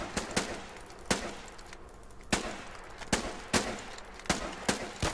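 Gunfire in the Foxhole war game, a series of sharp single rifle shots cracking at irregular intervals, roughly ten reports, loud and close over a low background rumble.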